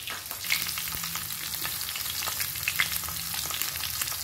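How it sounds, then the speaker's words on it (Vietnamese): Pork offal and blood pudding filling stir-fried with shallots and chili in a hot pan, a steady dense sizzle broken by scraping stirs and small pops, close and continuous. "Nòng chiên nhân tiết canh mình rang hơi kỹ cả nhà."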